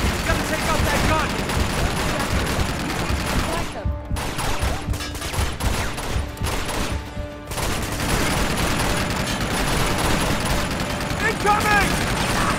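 Heavy gunfire fills a battle in Uncharted 2: Among Thieves Remastered on PS5, a nearly continuous rattling barrage with a short, thinner patch of separate shots near the middle.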